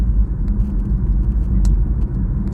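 Inside a moving BMW i3 electric car, a deep, steady road rumble and tyre roar fill the cabin, with small ticks and bumps over the surface and no engine note.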